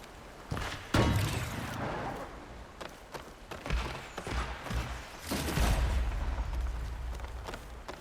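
Scattered gunfire and heavy impacts in Horizon Forbidden West, a few sharp loud bangs followed by rumbling booms and lighter thuds at irregular intervals, near and punchy.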